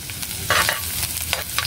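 Garlic sautéing in a hot pan for an eggplant dish, a steady close sizzle broken by a few brief scraping stirs, with no talking.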